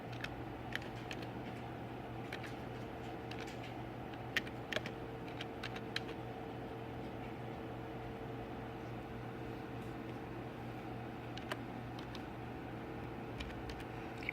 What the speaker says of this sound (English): You're going to press the space bar. And then you're going to type your name.